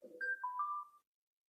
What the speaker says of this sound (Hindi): किस चीज का फोन बजता रहता सुबह शाम तक।